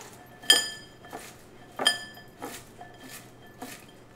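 A utensil clinks against a bowl while salt and lime are stirred together, giving four or five separate bright taps spaced roughly half a second apart, close and fairly quiet.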